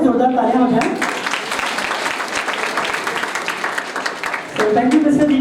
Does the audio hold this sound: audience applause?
yes